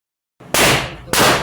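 Two sharp, loud gunshots ring out about half a second apart at a shooting range. Each is an abrupt blast followed by a short echoing tail, with nothing else heard around them.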